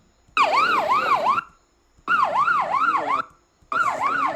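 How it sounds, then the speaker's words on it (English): An ambulance siren wails loudly in rising-and-falling sweeps, sounding in three long bursts with short gaps between them. "So the ambulance coming."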